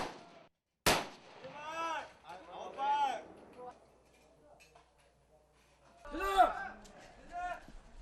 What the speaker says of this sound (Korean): 이 시간엔 전부 20발의 총알을 쏘는데요